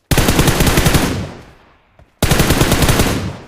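Two long bursts of rapid automatic gunfire in a first-person shooter during a sensitivity test, loud and close, with the first stream fading out into a brief gap before the second begins abruptly; no talking.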